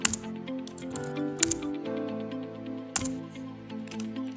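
A networking command is typed on a computer keyboard, with quick close key clicks and a couple of louder keystrokes in an irregular rhythm. No speech is heard.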